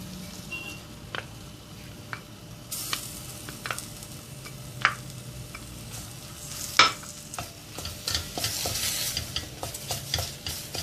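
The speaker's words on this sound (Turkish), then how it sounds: "Bir dakikada salçamızı güzelce kavuralım. Devamlı karıştırın." Tomato paste frying in butter and flour in a pot for flour soup made with bone broth, with soft continuous sizzling and a spoon scraping and tapping the pot in repeated strokes, growing busier toward the end.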